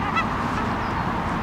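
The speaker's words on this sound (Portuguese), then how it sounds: "Tem um pássaro enorme ali." A large bird, likely a goose, honks loudly and close by in a harsh, sustained call with no talk over it.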